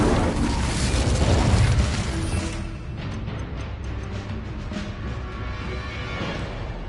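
Incendio fire spell cast in Hogwarts Legacy on PS4, a loud fiery boom and burst in the first two seconds that settles into a crackling, rumbling tail.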